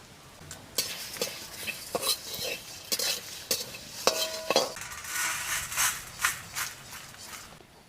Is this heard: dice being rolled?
no